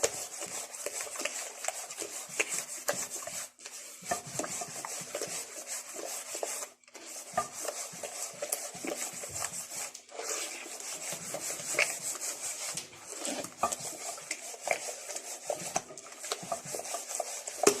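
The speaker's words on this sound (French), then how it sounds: "Et on mélange bien jusqu'à ne plus sentir les graines de sucre." A spoon scrapes and rubs steadily against a bowl while cake batter is mixed with sugar for a 1970s-style Moroccan cake, making a continuous gritty rasping with brief pauses between strokes.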